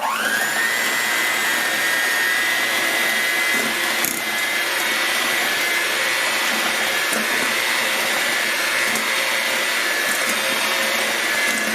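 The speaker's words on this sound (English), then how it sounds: "add our dry ingredients, and that we're going to use our mixer" An electric mixer runs steadily as dry ingredients are worked into vegan cinnamon pecan oatmeal cookie dough, a loud continuous whirring motor hum held close for about twelve seconds without speech.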